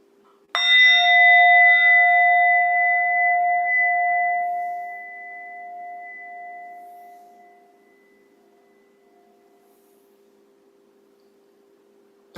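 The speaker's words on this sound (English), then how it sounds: "Notice for how long you can hear the ringing of the bowl." A singing bowl is struck once in a quiet meditation setting, a clear metallic tone that rings out loud and slowly fades over about seven seconds into silence.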